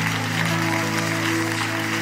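A church congregation applauding, a steady, loud wash of clapping over a sustained tonal hum that runs underneath throughout the brief moment.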